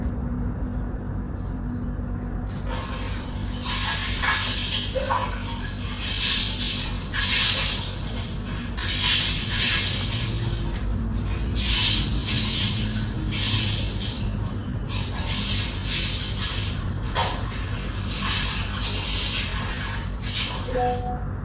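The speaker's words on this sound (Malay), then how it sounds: "itu bunyi seseorang sedang mandi di bilik air" Water sprays and splashes steadily as someone showers in a bathroom, with surging bursts of spatter over a constant hiss and no voices.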